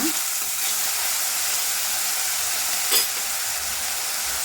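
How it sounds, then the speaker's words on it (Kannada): Onions fry in a pan with a loud, steady hiss of hot oil, a continuous sizzle with a brief stirring scrape near the start and another near three seconds. "ಇವಾಗ ಈರುಳ್ಳಿ ಹಾಕ್ಕೊಳ್ತಾ ಇದ್ದೀನಿ. ಇದನ್ನ ಫ್ರೈ ಮಾಡ್ಕೊಳ್ಳೋಣ."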